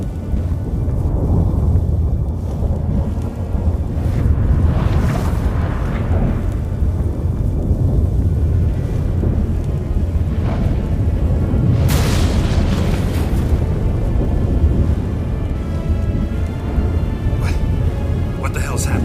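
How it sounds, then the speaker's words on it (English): A storm in the fantasy game The Witcher 3: Wild Hunt, with deep rumbling booms of thunder and bursts of loud cracks rolling continuously beneath characters' urgent speech. "That a storm?"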